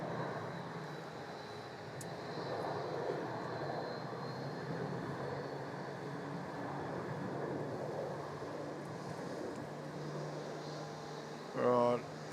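A fixed-wing aircraft landing on runway 34 at Melbourne Airport, a steady distant engine roar holding broadband throughout, with an air traffic control voice faintly present alongside.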